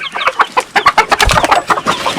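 Chickens and roosters on a farm clucking loudly and close, a rapid series of sharp repeated clucks in an uneven rhythm filling the whole moment.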